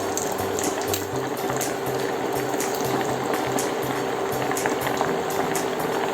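Chicken nuggets fry in hot oil in a pan, giving a steady, close bubbling crackle that runs without a break and has no voices over it.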